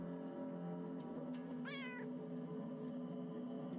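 A single clear meow from a cat in the game UnderRail at South Gate Station, close and distinct over a constant low ambient drone, with no one speaking.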